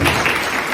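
A parent audience at a school event applauds, a brief continuous wash of many hands clapping, loud and close, with no talk.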